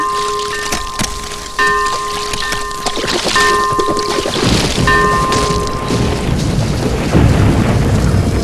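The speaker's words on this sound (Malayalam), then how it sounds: "മഴയും കാറ്റും പെയ്തു" Steady rain falls throughout during a monsoon shower in Kerala, with wind and a few low rumbles that may be distant thunder; thin tonal hums run through the first half, and no one speaks.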